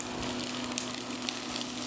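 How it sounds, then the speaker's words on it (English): Onions sautéing in oil in a smoking-hot pan give off a steady, close, dense sizzle that holds level for the whole moment, with no voices. "You're going to start by sauteing your onions."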